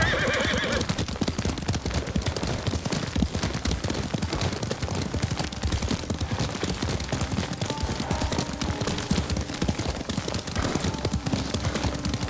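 Horse whinnying and steady hoof clip-clop in the video game Ghost of Tsushima, continuous galloping with a loud neigh early on, mixed with sharp bursts like gunfire throughout.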